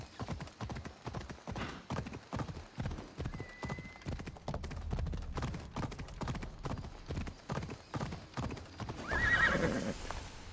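A summoned horse gallops up in a video game, hooves clip-clopping in a quick steady rhythm that builds closer, then ends with a neigh near the close.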